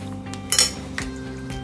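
Spoon or utensil knocks and clinks against a bowl while beef is mixed with cornflour and egg white for beef chilli: two quick clatters, then a single tap, up close.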